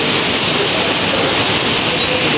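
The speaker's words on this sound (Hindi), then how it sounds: "कितनी तगड़ी बारिश हो रही है" A steady, dense roar of heavy rain falling close by as evening darkens, continuous and loud throughout with no voices standing out above the downpour.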